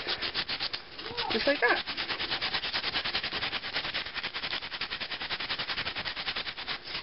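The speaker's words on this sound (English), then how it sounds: "So we're just going to sand this off" Wood being sanded by hand with 100-grit sandpaper for a small shrine project, a steady rapid scratchy rubbing in quick back-and-forth strokes throughout, close and fairly loud, with a brief voice near the start.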